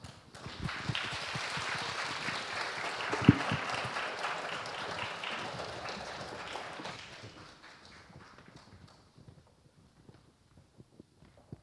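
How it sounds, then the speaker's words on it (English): A crowd at an anniversary ceremony claps enthusiastically in sustained applause that gradually thins out, ending in a few scattered claps. "a large round of applause"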